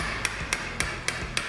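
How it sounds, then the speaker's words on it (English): A hammer taps on the wheel axle of a Super73 RX e-bike during wheel removal, five sharp metallic strikes evenly spaced about a quarter second apart, close and clear with no talking. "I am a little hesitant in taking a hammer to my Super 73"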